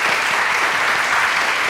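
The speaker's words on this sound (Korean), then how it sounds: "다시 한번 크게 박수해 주시기 바랍니다." Church congregation at Sunday worship breaks into another round of loud, dense applause, a continuous wash of many hands clapping without pause.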